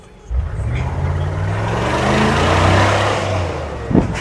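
Mercedes G-Wagon side-exit exhaust heard with the windows down, the engine rising in a long rev that swells and holds loud and close before easing off, followed by a short thump near the end.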